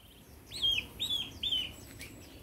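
Young goslings call with three or four thin, rising peeps in quick succession, close by and fairly clear over faint background noise.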